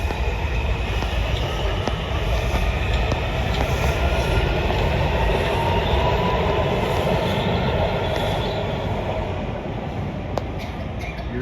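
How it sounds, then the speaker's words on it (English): A train rolling past on the tracks at Alexandria, Virginia, a loud, continuous, close rumble and roar that stays steady for several seconds without a break. "I think a train coming."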